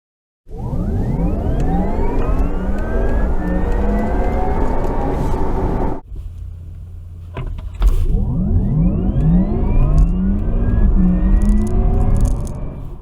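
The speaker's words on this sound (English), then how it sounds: "you can pump some artificial noise into the Taycan Turbo's cabin at the touch of a button" Synthetic drive sound fills the cabin of a 2020 Porsche Taycan Turbo, a loud electronic hum that rises steadily in pitch under acceleration, cuts out briefly, then swells and climbs again, with no talking.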